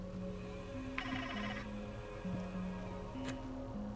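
A telephone rings in the video game Heavenly Bodies, a repeating electronic ring tone pulsing in short bursts over a steady low game hum, with no talking.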